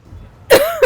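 A single short, sharp cough, close and loud, with a quick second burst right after, from someone eating spicy misal at a street breakfast stall in Thane, India.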